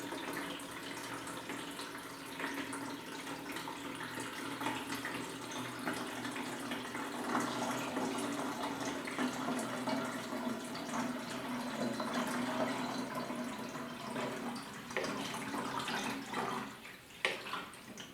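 Vinegar pouring into the fuel tank of a Yamaha RS 100 motorcycle, a continuous hollow splashing rush that fills the whole stretch at steady moderate loudness with no voices.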